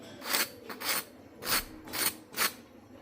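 Golden-brown, very hot whole-wheat pea kachoris being handled, their crisp fried crusts giving five dry rasping crackles in an uneven rhythm, close and fairly soft, with no talk.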